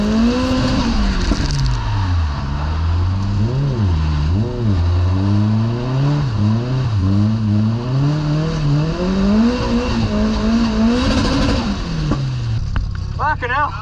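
Borrowed drift car on a rain-wet track, its engine loud and close as it revs and bounces through repeated rises and dips while doing donuts, with tire noise mixed in and voices heard over it.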